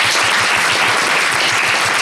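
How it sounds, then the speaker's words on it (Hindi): Schoolchildren in a government classroom clap together in a fast, even rhythm, loud and close, with no talking over the steady beat. "ताली बजा दो"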